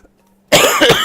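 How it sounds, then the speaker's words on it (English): A single harsh, loud cough erupts close to the microphone after half a second of near silence, rough and throaty. "I'm just like coughing up a storm"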